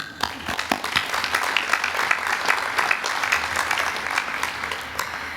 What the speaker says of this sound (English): all of our graduates here today turn and applaud you for your aroha and supporting them to attain their tohu today